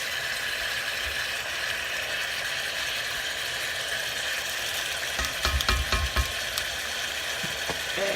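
Beef tips frying in a Dutch oven with gravy, a steady broad sizzle running throughout, with a few louder crackles and scraping clicks near the end.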